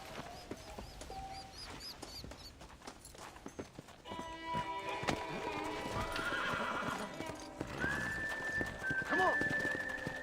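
A horse in the Red Dead Redemption video game neighs and its hooves clip-clop at a run, with galloping steps and whinnies sounding close over game music and effects, while a voice speaks at times.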